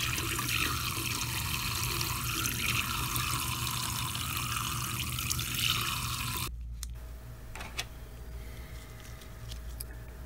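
Running water pours steadily over a refillable Canon PG-245 printer ink cartridge as it is rinsed in a sink. The flow is loud and continuous for about six seconds, then stops abruptly, leaving quieter drips and faint handling sounds.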